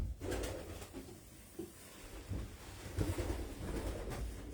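Racing pigeons coo softly in short, low bursts, faint and somewhat distant against light wind and background noise, with no one speaking.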